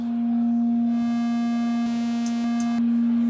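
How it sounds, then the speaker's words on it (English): A Buchla Music Easel synthesizer plays a steady sine tone, loud and sustained for about three seconds, with faint overtones appearing partway through and a few soft clicks near the end. "So I can start with the sine tone"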